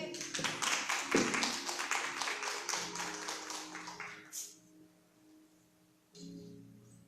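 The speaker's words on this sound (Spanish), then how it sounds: "Denle un aplauso a Cristo." A church congregation claps for Christ during a Spanish-language service, a dense burst of hand claps that starts loud, thins out and fades after about four seconds, leaving a quiet tail with a faint voice.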